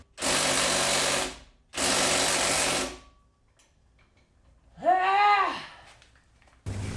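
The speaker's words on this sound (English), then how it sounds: "I'm unbolting the diff, or the driveline from the diff" Tools whir in bursts while the driveline is unbolted from the differential of an Evo 9: two sustained grinding runs of about a second each, a pause, then a rising-and-falling mechanical whine and another short burst starting at the end.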